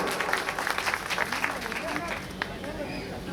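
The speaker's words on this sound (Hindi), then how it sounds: "ताली स्वागत करें साथियों" Political party gathering audience clapping to welcome a speaker to the stage, a dense wash of applause mixed with crowd murmur and babble, fairly loud and continuous for a few seconds.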